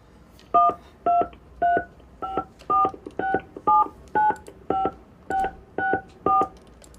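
Telephone keypad tones from a mobile phone as a credit card number is entered during a call: about a dozen loud, clear two-note beeps pressed at an even pace, roughly two per second, with no talk over them.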